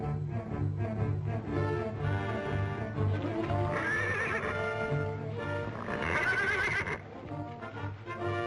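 A horse whinnies loudly and repeatedly over the steady clip-clop of hooves in a 1936 Western film scene, with a continuous busy background of movement and no talk.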